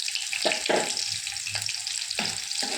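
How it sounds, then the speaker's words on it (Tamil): Small sliced shallots sautéing in hot sesame oil in a pan, a steady broadband sizzle with a few louder bursts as the pan is stirred, close and alone without talk. "நல்லா எண்ணெயிலே வதங்கணும்."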